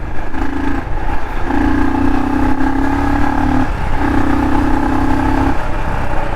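A Royal Enfield Scram 440 motorcycle pulls in third gear with a steady engine drone whose pitch rises through three long sweeps, heard close and loud over wind rush.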